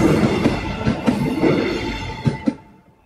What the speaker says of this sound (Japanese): わー、なんだろう、電車か。